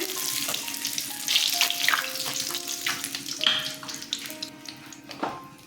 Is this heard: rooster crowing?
no